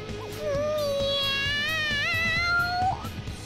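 A video game cat meows excitedly in one long, rising and wavering call, loud and close over a low music bed.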